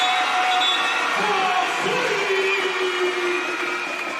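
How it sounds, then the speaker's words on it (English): A basketball crowd cheers and roars after a made three-pointer at a Cheshire Phoenix vs. Sheffield Sharks Super League Basketball game. The noise is a loud, steady arena wash that fades slightly, with a commentator talking over it. "And the crowd love that."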